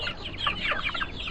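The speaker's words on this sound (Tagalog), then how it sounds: "mga manok." Chickens clucking on a farm, a steady flurry of overlapping hen clucks and calls close by, continuous through the short stretch with no talk.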